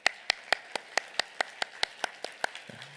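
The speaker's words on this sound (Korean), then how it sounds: "우리 환영의 박수 한번." A church congregation at a Sunday service in Seattle gives a welcoming applause for a visiting pastor: sharp, evenly spaced claps, led by one close pair of hands at a steady quick rhythm, with softer clapping behind and a low voice at the end.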